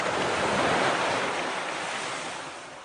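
Ocean surf and wind on the shore at Malibu form a steady, loud, broadband wash that eases off slightly toward the end, with no voices.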